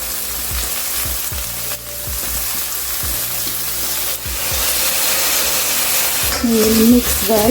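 Paneer manchurian frying and being stirred in a pan as dark soy sauce goes in, a steady loud sizzle broken by scraping spoon strokes, with someone speaking briefly over it.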